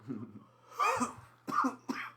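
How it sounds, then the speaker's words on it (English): A person coughs close to the mic, several harsh throaty bursts separated by short pauses. "Gotta start off a lung pucky with a cough, right?"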